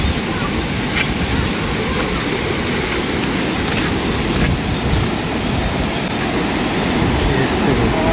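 Turbulent flood water surges strongly down a river in a steady, loud, broadband roar and rush that never lets up.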